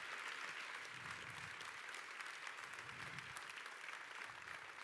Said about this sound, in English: Beth Altringer, a big round of applause, guys.